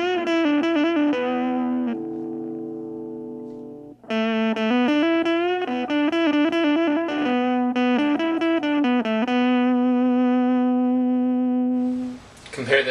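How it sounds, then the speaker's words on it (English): Electric guitar run through a Blue Dinosaur Electronics Coffee Grinder distortion pedal set for broken, glitchy tones, played as sustained notes and choppy picked phrases with gaps, buzzy and harsh, alone with no talking. "Here we get into the really broken sounding tones."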